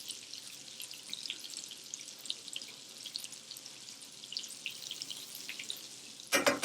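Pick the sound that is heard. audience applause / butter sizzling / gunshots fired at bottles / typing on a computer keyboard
butter sizzling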